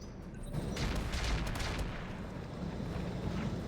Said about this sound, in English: they're going to have a bunch of turrets firing